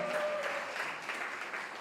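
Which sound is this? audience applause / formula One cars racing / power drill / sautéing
audience applause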